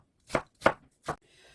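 A knife chops an onion finely on a cutting board with three sharp, close chops at an even pace, followed by near silence.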